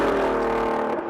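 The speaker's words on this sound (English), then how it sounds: "Quite possibly the best sounding V8." A powerful V8 sports car engine revs hard and close, a loud rich roar that begins to drop away near the end.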